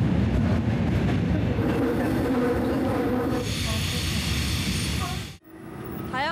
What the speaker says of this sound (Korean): 서울 지하철 5호선 열차 내 소리를 담아봤습니다.